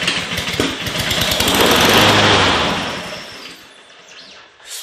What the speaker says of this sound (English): then start up the engine